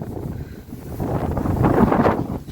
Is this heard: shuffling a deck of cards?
no